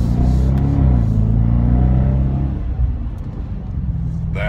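A car engine on stock exhaust revs up to a loud, deep roar, then eases down into a lower rumbling drone, recorded close by.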